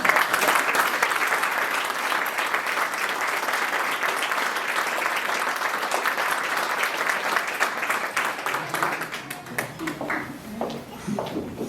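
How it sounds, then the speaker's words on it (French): A municipal youth council meeting audience gives steady, full applause that holds for about eight seconds, then thins into scattered claps. "j'aimerais aussi donner une bonne main d'applaudissement pour notre belle jeunesse qui a réalisé cette œuvre"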